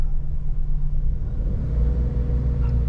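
A car pulling away on clutch alone with no accelerator during a driving lesson, a steady low engine rumble heard from inside the cabin, even and unchanging throughout.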